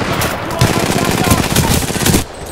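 Loud, continuous gunfire from a slow-firing gun in a console video game, dense and sustained for most of the clip before cutting off near the end, with some voice mixed in.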